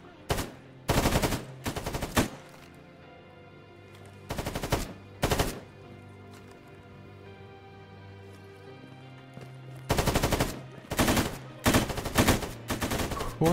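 Automatic gunfire in the video game S.T.A.L.K.E.R. Gamma comes as loud, sharp bursts: a cluster early on, two more after a quiet stretch, then a rapid run of volleys near the end over a low ambient hum.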